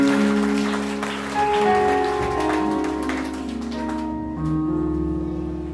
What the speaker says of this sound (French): on applaudit pour monsieur